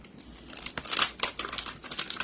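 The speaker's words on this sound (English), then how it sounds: "So you're gonna have to fussy cut it." Paper being fussy cut by hand with scissors for a papercraft holiday card and treat box, a quick run of close crisp snips and rustles with no talking.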